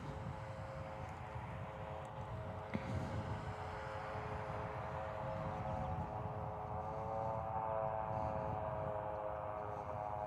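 A Virgin Australia airliner passing overhead at Perth Airport: a steady, moderately distant jet roar with a droning tonal hum that holds for about ten seconds, with no talking.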